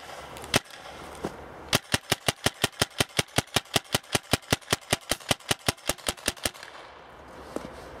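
Tippmann A5 paintball marker with a 16-inch barrel firing, a few single shots followed by a long rapid string of about thirty sharp, evenly spaced pops, close and loud, then stopping.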